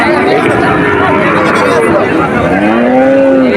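A cow lowing at a Betaga cattle market, with several drawn-out moos close by rising over a constant hubbub of crowd chatter and people talking.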